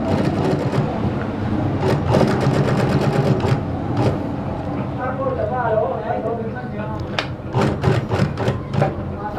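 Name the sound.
sewing machine stitching a sleeve placket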